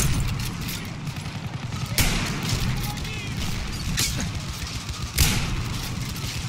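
Battlefield 1 combat with a grenade blast among sharp booms and scattered gunfire, several loud bursts spaced a couple of seconds apart over a continuous battle din.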